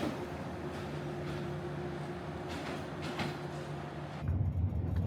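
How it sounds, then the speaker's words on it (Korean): Sleeper train bound for Sapa, Vietnam, rumbling along with a steady low drone, faint rhythmic rattles and a hum inside the carriage, rising a little near the end. "사파행 기차가 출발했다."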